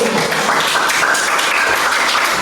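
Schoolchildren in an elementary classroom clap together on cue, a loud, busy burst of many small hands lasting a couple of seconds with no talking over it.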